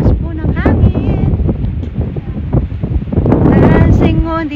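Strong wind blasts the microphone at Porteau Cove beach, a loud continuous roar that swells near the end, with voices faintly audible beneath it.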